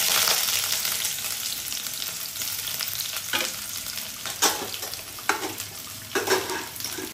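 Chopped onion sizzling in hot oil with whole spices like cloves, cinnamon and cardamom, a steady close frying hiss broken by occasional stirring scrapes in the pan.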